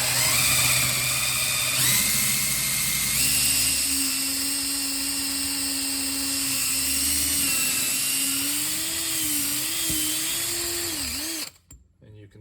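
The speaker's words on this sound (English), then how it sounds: "I'm just going to drill out this first hole here" A power drill whines steadily for about eleven seconds, its pitch wavering slightly as it drills a pocket hole into wood with a Kreg jig, then cuts off abruptly.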